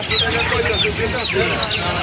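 Chickens cluck and chirp amid a noisy, busy market, with a murmur of voices mixing in throughout.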